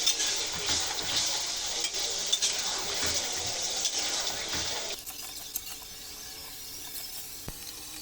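Chicken stir-frying in a kadai with salt and turmeric, a dense bright sizzle with scraping stirs for about five seconds before dropping to a quieter crackle with occasional clicks.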